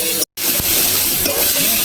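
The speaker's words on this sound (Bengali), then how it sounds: "অল্প করে ভালো করে নেড়ে চেড়ে কষিয়ে নেওয়া মশলাটা" Spice masala of turmeric, coriander and cumin powder is stirred and fried in oil in a pan, giving a loud, continuous sizzle with a brief gap of silence near the start.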